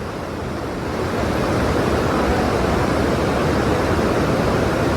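A river rushes past the edge of a market area in Dharchula, a loud, steady roar of flowing water that swells slightly after the first second and continues alone.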